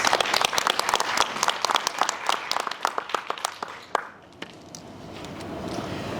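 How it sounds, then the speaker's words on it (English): A town hall audience breaks into loud applause that fills the room with dense clapping, then tapers off to a few scattered claps and quiet room tone. "Let's give them a round of applause"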